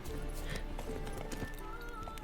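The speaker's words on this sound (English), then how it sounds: "call your horsey. That's it, Roach" Horse hooves clip-clopping in The Witcher 3 video game, a steady rhythmic trot close up over a busy background of game sound, with a brief louder burst at the very end.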